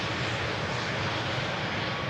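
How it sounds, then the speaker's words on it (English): A steady, fairly faint engine roar of an airplane flying overhead near Amsterdam Schiphol Airport, an even broadband rumble holding constant for a couple of seconds with no voices. "I'm also distracted by the sound of an airplane passing overhead"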